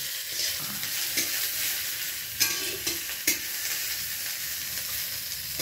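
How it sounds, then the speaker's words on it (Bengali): Sour okra sizzles as it fries in a pan, a steady close hiss broken by a few sharp clinks and scrapes of stirring. "এবারে এই টক ঢ্যাঁড়স কটা দিয়ে দিলাম। দিয়ে এবারে নাড়তে হবে।"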